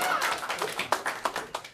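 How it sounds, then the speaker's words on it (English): A small scattering of audience claps at a comedy-style convention panel, individual hand claps audible in a loose, uneven rhythm, fairly close and moderate in level. "he needs an applause"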